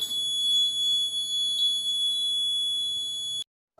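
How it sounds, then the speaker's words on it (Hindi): Buzzer alarm on a laser security system built for a Tesla coil, sounding loud and steady as a continuous high-pitched electronic tone for over three seconds before cutting off abruptly. "ये जो बजर है इसकी भी आवाज़ थोड़ी धीमी हो गई है।"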